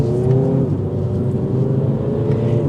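A 2023 Mini Cooper S two-door hardtop engine on a test drive, heard from inside as a steady, loud cabin drone with a slight pitch shift partway through and no talking.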